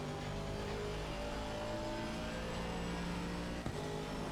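A Ford Mustang race car in Assetto Corsa Competizione at Silverstone roars past with a loud, steady engine drone, a sustained mid-pitched howl that holds throughout with a brief bump near the end.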